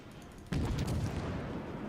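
Naval guns fire in World of Warships, a single deep boom landing abruptly and then rumbling away into a low, lingering roar, with no voices.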